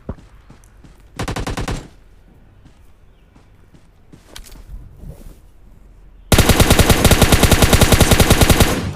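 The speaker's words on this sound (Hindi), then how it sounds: "तभी मुझको यहाँ पे फायरिंग की आवाज़ आती है।" Automatic gunfire from the PUBG Lite video game, set on a wooded map, comes in two bursts: a short rapid volley early on, then a louder sustained stream of shots at the end, with faint footsteps and scattered shots in between.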